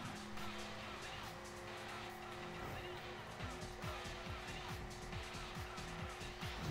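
Arcade race car in Hotshot Racing pulling away from the start and running onto grass, a steady, fairly quiet engine whine with rising and falling rev sweeps and light tire noise throughout.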